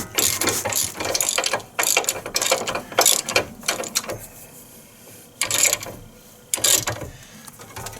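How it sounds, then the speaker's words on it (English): Hand ratchet tightening ball joint bolts on a Chevy Equinox, rapid close clicking in several bursts with short pauses between strokes, no speech. "let's crank them down with a ratchet first"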